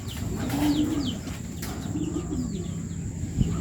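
Racing pigeons in a breeder cage give soft, low cooing phrases, close and repeated, over a faint ambient hum with a few light chirps.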